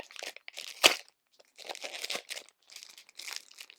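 Plastic packaging crinkles and crackles in short bursts as it is handled, with one sharp snap near the start.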